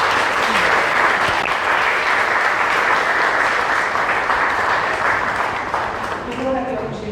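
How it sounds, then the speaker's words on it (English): Sustained applause from a book launch audience at a tropical writers' festival in Cairns, dense and steady throughout, easing slightly near the end as a voice begins to talk over it. "Can we have a round of applause for Kirsty?"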